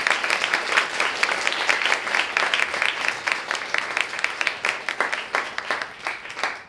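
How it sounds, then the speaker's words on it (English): An audience at a 2017 Girl Geek Dinner panel on engineering leadership breaks into applause, a dense, even patter of many hands that carries on steadily and then tapers away at the end. "Let's give them a round of applause"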